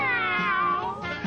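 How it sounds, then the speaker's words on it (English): A cat's drawn-out meow, loud and close, with a rising-then-falling tonal cry lasting just over a second and ending in a softer second call, heard alone with no talk. "I heard my cat meow."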